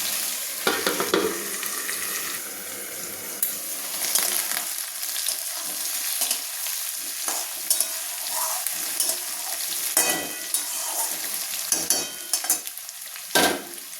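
Figs and potatoes fry in a pan with a soft, steady sizzle, broken by intermittent stirring scrapes and clinks. No voices are heard.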